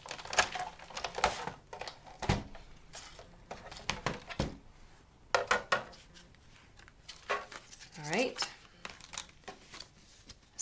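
A card is cranked through a die-cutting machine between two standard cutting pads, giving a series of sharp clicks, knocks and grinding rolls in uneven bursts, heard close and interleaved with a person talking.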